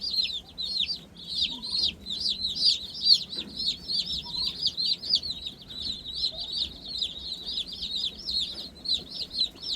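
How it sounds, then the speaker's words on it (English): Meat bird chicks in a brooder peep continuously, a dense chorus of high, rapid chirps close by with no pauses, over faint low background rustling. "So we have a mixed flock here with these little Meatbirds."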